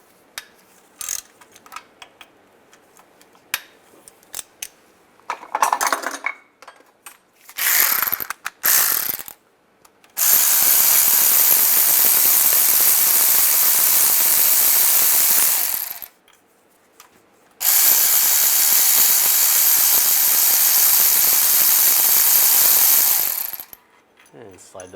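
A ratchet drives a 10mm socket, removing bottom bolts from the rear main seal cover of a 2007-2013 Chevy Silverado: a few short clicking bursts, then two long, loud, steady runs of rapid ratcheting, close up with no talk.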